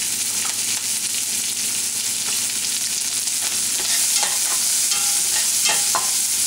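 Peppers, ginger and jalapeño sautéing in a pan with a steady, close sizzle and scattered stirring scrapes throughout, no voices.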